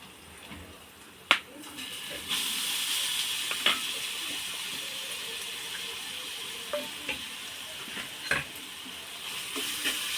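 Ground raw green mango and a little coriander fry in very hot oil, giving a steady close sizzle and hiss broken by occasional sharp clinks of stirring.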